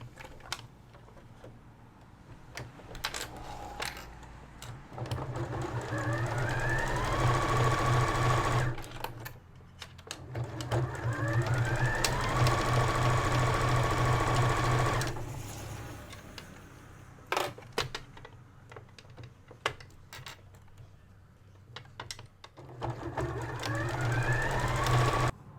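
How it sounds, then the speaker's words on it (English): A sewing machine stitches the open end of a fabric wristlet closed in several long, steady bursts of rapid mechanical whirring, with quiet gaps of handling clicks between runs. "You're going to take it over to the sewing machine and you're going to stitch that open end closed."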